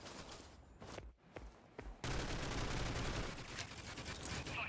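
Rainbow Six Siege pro league match gunfire: a few sharp isolated shots over quiet background, then a dense, continuous spray of rapid automatic fire that stays loud to the end.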